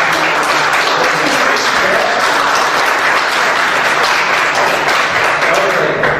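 A congregation at a children's Christmas service applauds the children, loud, full, continuous clapping from a large room of people that stays steady from start to finish.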